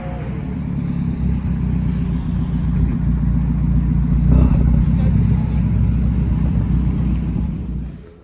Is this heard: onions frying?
no